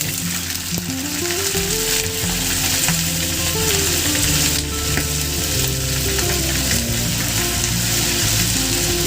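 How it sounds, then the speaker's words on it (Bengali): Hot oil sizzles and fries steadily in a pan while aloo dum is being made. The sizzle is loud and continuous throughout, with a tonal melody playing over it. "তেল দিয়ে দিলাম। তেল গরম হয়ে গেছে।"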